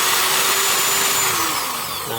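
A power drill whirs steadily at close range, its high motor whine holding even before dipping slightly in pitch near the end.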